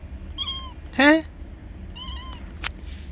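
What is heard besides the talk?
cat meowing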